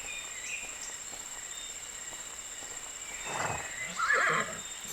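A horse in the video game My Little Riding Champion gives a short neigh and a rising whinny near the end, heard against a steady outdoor bed of insect and cricket chirps with no talking.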